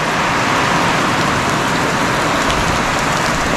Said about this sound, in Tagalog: Ang lakas na naman ang ulan.